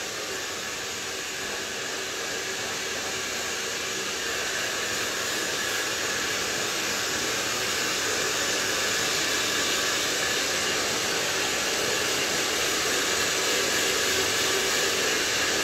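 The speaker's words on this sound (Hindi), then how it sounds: "नॉर्मल हॉट एयर पे अपना ड्रायर ले लो, फिर थोड़ा ड्राई करो" Hair dryer set to normal hot air, drying hair after a butterfly haircut, blowing as a loud, steady broadband whoosh that holds constant for the whole stretch with no talking.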